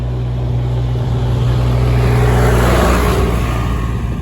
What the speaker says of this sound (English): There's a very loud tractor coming.